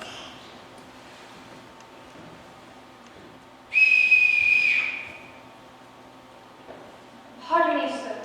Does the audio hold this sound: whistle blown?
yes